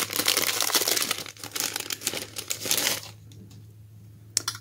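Crinkly packaging being unwrapped up close, dense crackling and rustling for about three seconds, then near quiet with a final brief rustle.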